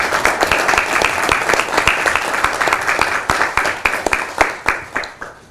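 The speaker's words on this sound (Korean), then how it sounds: "건강하시라고 박수 한번 보내주시기 바랍니다" An audience at a political party's leadership meeting claps steadily and loudly, a dense run of hand claps that thins toward the end, with no talk over it.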